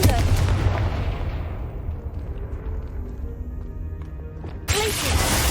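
A heavy explosive blast from the Confringo spell in Hogwarts Legacy booms and then decays into a long rumbling tail, with a second loud burst near the end.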